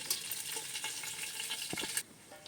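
Whole pulao spices fry in a pan for a raw prawn biryani, a soft, fairly faint sizzle with a couple of light utensil taps before it drops away abruptly near the end.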